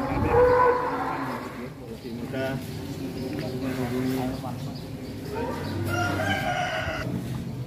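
Cattle low repeatedly at a busy livestock market holding around a thousand head, with deep moos near and far over crowd chatter, roosters crowing in the background and people talking throughout.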